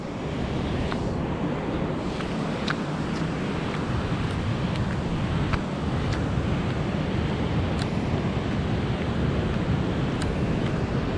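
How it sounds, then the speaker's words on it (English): Waterfall at the edge of a canyon gorge on a Tuolumne Meadows to Hetch Hetchy hike, a steady broad roar of rushing water that stays loud throughout, mixed with some wind buffeting. "we've been walking around like right on the edge of this gorgeous waterfall here"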